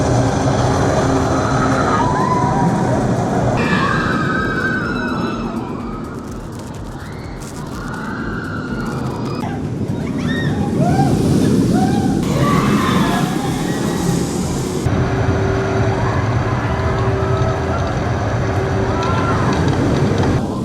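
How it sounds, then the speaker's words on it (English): The Icon roller coaster at Blackpool Pleasure Beach, heard from on board as a loud rush of wind buffeting the microphone over a rumbling track roar that surges and dips throughout the ride. "I've just had a ride there on Icon."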